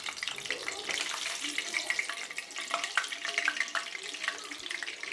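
Rice and potato bondas deep-frying in coconut oil give a steady crackling sizzle with bright spattering pops, close and continuous, with faint clinks of a slotted spoon.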